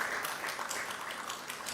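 Brief burst of audience clapping at a Caribbean Broadcasting Union media awards gala, scattered hand claps over a short stretch, moderately quiet and somewhat distant.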